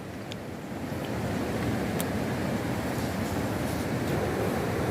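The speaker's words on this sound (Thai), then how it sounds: "พี่น้องได้ยินบ่เสียงน้ำต้นตาด" Steady broad rush of water at Khaeng Luang waterfall in Laos, a constant close roar that swells slightly after the first second, with some wind on the microphone and no talk.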